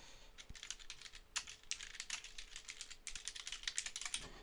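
Quick, light keystrokes patter on a computer keyboard in short bursts with brief pauses while an order is entered, close and clear in a quiet room.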